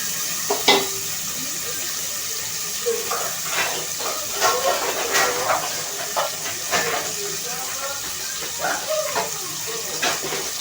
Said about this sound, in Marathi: टमॅटो पण आपण ह्याच्यात टाकणार आहोत आणि फ्राय करणार आहोत एक दोन मिनटं